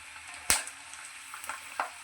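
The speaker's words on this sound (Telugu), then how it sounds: "ఇలా వేయించుకుంటే చాలా టేస్టీగా ఉంటాయి." Bitter gourd frying in a pan, a constant close sizzle punctuated by a few sharp pops and spatters, no voices.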